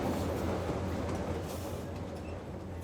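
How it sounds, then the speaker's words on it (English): The Lima to Huancayo train rumbles along through Peru's Central Sierra with a steady, loud low roar of wheels and carriages, continuous throughout. "The train links Lima to Huancayo, in the heart of the Central Sierra"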